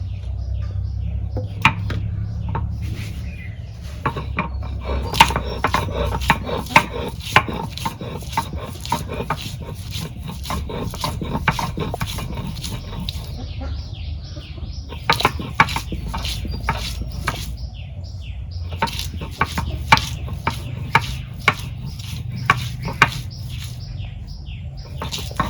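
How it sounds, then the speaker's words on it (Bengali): Ginger and garlic being pounded together in a home kitchen while cooking pumpkin khichuri, heard as a long run of sharp, irregular knocks and taps over a low background rumble, fairly close and steady throughout. "আদা রসুন একসাথে বাইটে নেব"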